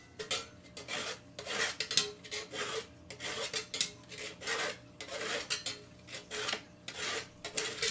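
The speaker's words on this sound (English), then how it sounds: "I'm going to run this file around the face of it." A metal file rasps back and forth across a Berkey water filter part being deburred, making quick, close, rhythmic scraping strokes with short pauses between them.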